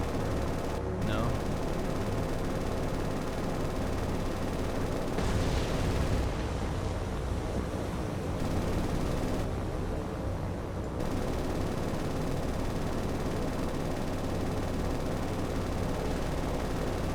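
Gunfire from an A-20 bomber in the naval combat game War on the Sea rumbles as a continuous dense roar of shots and engine noise, loud and unbroken throughout.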